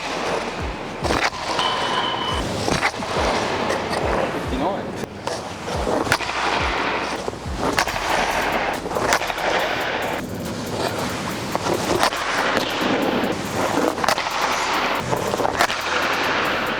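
Ice hockey sticks from brands such as Bauer, CCM, Warrior and TRUE slap pucks in a series of loud, sharp cracks at irregular intervals, with wind-like rushing noise between the hits.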